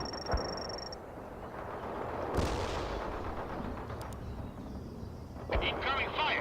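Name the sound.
gunfire and artillery in the video game World in Conflict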